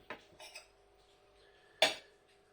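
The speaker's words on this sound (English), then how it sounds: "Put my knife down, pick that up." A knife is set down on a plate with a sharp metallic clink, preceded by a couple of softer cutlery taps, close in an otherwise quiet room.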